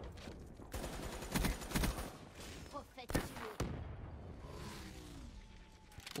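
Gunfire in the Call of Duty Black Ops 3 multiplayer match on Razorback, with loud bursts and single shots crackling across the clip amid game effects, while someone talks over it.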